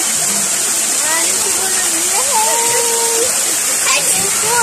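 Garden shower water spraying and splashing steadily in a loud, continuous hiss, with excited children's voices and shouts over it.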